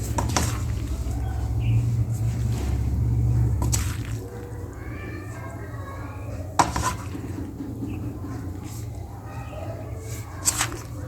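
Cooked chicken macaroni is scooped out of a pot, with clattering pot and utensil scrapes and a couple of sharp clinks over a low steady hum; no talking.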